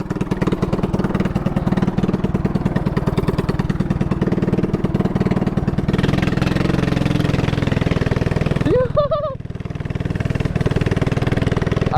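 A Honda dirt bike converted to a three-wheeler, fitted with a Predator-type motor, runs at a fast, steady idle close by with a rapid pulsing chug, then briefly revs up and settles; a short whoop rises above it.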